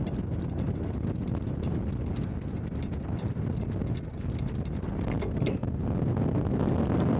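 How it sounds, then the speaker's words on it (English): A dense, continuous mechanical rumble with irregular knocks and clanks over steady wind noise, as a boat's anchor windlass hauls chain under heavy load, struggling. "Now you can hear now the windlass is coming under load. It's struggling now."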